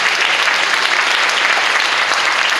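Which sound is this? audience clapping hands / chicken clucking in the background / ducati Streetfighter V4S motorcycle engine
audience clapping hands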